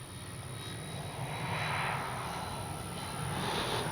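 An Arrows F4U Corsair RC model warbird flies past with a steady, loud motor drone that swells slightly midway and holds throughout, with no talk.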